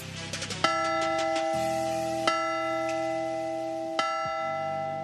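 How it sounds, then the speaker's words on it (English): A ceremonial mission bell rings out at Petco Park before a Padres–Reds baseball game, three loud clanging strikes spaced about two seconds apart, each leaving a long ringing decay. "David Baina, to ring tonight's ceremonial mission bell"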